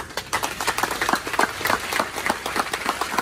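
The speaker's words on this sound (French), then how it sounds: "je demande à l'assistance de joindre leurs mains pour applaudir une fois encore les efforts de nos classes" Applause from the audience at a university graduation ceremony in Haiti, lively rhythmic clapping from many hands, loud and continuous with a slightly echoing hall sound.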